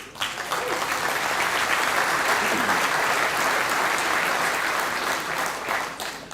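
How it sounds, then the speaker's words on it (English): A conference audience at ConfigManagementCamp in Ghent breaks into warm, sustained applause, dense clapping from many hands that holds steady for several seconds before tapering off. "give a warm applause for Lee."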